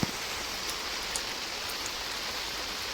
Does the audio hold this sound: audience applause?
no